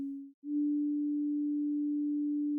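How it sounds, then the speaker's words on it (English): A pure sine wave tone from a Pure Data synthesizer patch holds steady and low, with a brief dropout near the start before resuming as a constant, clean hum. "like right now, it's on a sine wave"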